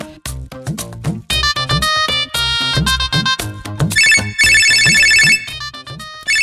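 A mobile phone ringtone playing for an incoming call, a loud, bright electronic melody with a rhythmic beat and a chiming higher section near the end, with no talk over it.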